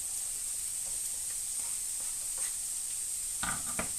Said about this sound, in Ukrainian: Смажемо цибулю,